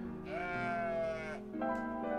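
A sheep in the video game OneShot gives two loud, close bleats, the first long and wavering, the second shorter, heard alone.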